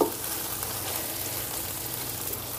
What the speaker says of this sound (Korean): 파만 살짝 더 익히시는 거예요. 이렇게 볶아서 이제 됐죠?